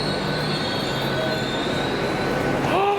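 A train rolls past close by with a steady rumbling roar, sustained metallic wheel squeal and a sharp rising screech near the end, no clear speech over it.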